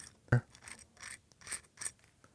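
Fishing hook drawn across the coarse side of a hook sharpener, giving a few short dry rasping strokes at close range, one sharper scrape at the start followed by softer repeated rubs.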